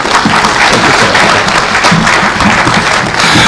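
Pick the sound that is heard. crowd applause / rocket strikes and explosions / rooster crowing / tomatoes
crowd applause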